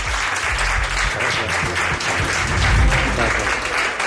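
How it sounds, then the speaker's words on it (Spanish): Studio audience applauding a guest on a talk show, continuous close, full clapping throughout with no pause. "Aquí le tenemos un aplauso para él"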